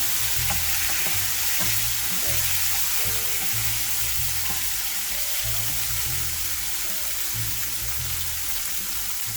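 A spiced mixture with chili paste frying in a pan while being stirred and mixed, giving a constant dense sizzle with a rhythmic low scraping beneath it, close up and with no voices.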